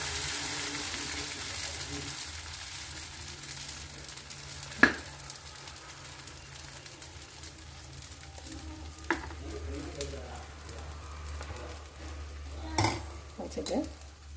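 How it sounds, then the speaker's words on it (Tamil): Dosa batter made from flattened rice and green gram sizzles faintly on a hot griddle under a low steady hum, with a few sharp utensil clinks. "அடுப்பில் தோசைக்கல்லை போட்டாச்சு. இப்போ கல் நல்லா காஞ்சிருச்சு."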